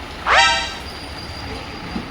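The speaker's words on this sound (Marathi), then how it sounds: "समोर पण एक ट्रेन आहे ती बोरवली आहे पण वेदनला प्रॉब्लेम होईल" A train bound for Borivali stands at a railway platform, sounding a single short, loud horn-like toot that fades into a steady background hum.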